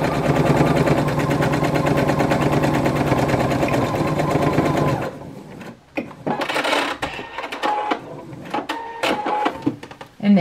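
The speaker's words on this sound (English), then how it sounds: "Now that we've sewed the 1/4 inch seam" A sewing machine stitches a 1/4 inch seam on a pillowcase. It runs as a steady, fast mechanical whir for about five seconds, then stops and gives way to scattered clicks and handling clatter.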